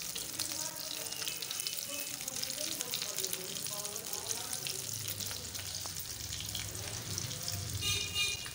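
Aloo tikki potato patties fry steadily in a pan with a continuous broadband sizzle and crackle; a voice talks briefly over it, and a faint watery clink comes near the end.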